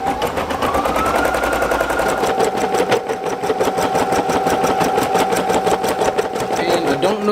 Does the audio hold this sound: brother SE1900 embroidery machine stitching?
yes